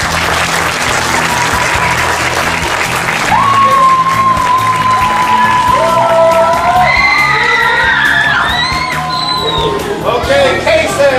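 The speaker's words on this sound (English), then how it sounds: "Everybody, big round of applause." Cub Scout pack audience at a Court of Honor ceremony breaks into loud, dense applause with cheers, whoops and children's shouts rising over the clapping, close and sustained throughout.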